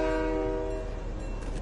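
A train rumbles past in a Fortnite match, a loud steady horn-like tone fading into a continuous rolling rail roar, close and sustained with no talk over it.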